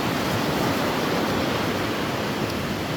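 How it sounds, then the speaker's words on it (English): Water directed up into a channel at a salmon hatchery in Juneau, Alaska, rushes steadily back down in an unbroken broadband roar, loud and close with no talk over it. "I love how they've kind of directed the water up into there and then it flows back down out of there"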